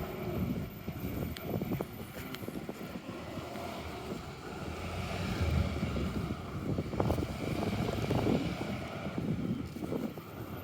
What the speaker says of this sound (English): I am feeling some wind, but that's okay.